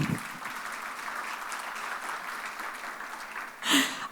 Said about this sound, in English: Round of applause, you guys.